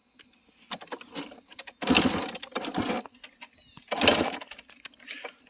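A long travel buggy with a roughly 100 HP engine is cranked without choke: repeated short bursts of cranking and sputtering, two louder attempts that briefly catch, close and loud, with no talk.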